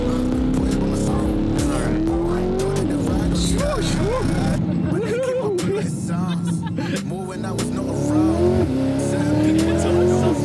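A built twin-turbo LT2 C8 Corvette accelerates hard, its engine pitch climbing and dropping through gear changes with some tire noise, loud and close, while people talk and react over it.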